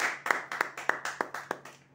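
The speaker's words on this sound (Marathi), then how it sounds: "जोरदार टाळ्या वाजवा." A few hands clap in a quick, evenly spaced run of about seven sharp claps for a prize draw winner, fairly close, then fade out, with no talk.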